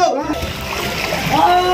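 Water splashing and sloshing inside a car hanging above water as it fills, a loud, close, continuous splatter with excited voices talking over it.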